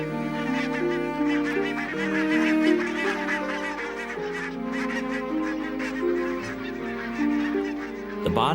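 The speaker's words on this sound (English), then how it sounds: "The barnacle geese pour in from the sea, spilling the wind to tumble earthwards in a sudden rush of wings." Barnacle geese arriving from the sea make a loud, dense chorus of overlapping honks that goes on without a break, with a rush of wings toward the end.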